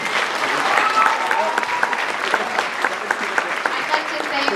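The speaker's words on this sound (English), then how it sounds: "So round of applause for our administration." A school pops concert audience gives sustained, dense applause at a senior recognition ceremony, with loud, even clapping that fills the room throughout and no clear speech over it.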